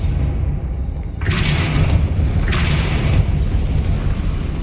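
Two loud magical blasts from the Depulso spell in the game Hogwarts Legacy, each a sudden whooshing burst about a second apart, over constant rumbling ambient background noise.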